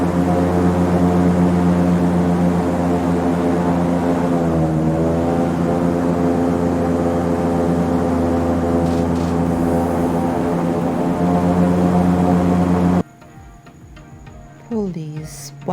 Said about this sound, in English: Police boat.